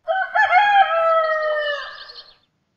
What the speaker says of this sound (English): And fourth one is cock.